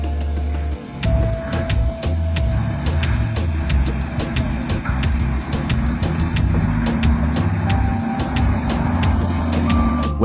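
A heavy loaded logging truck rumbles off a vehicle-carrying boat, its deep diesel engine droning steadily beside rhythmic reversing beeps and a faint tonal whine.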